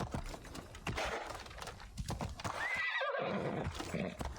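A horse whinnies in Assassin's Creed Odyssey, a loud, close neigh. Clip-clopping hooves and game ambience continue around it, and no one speaks.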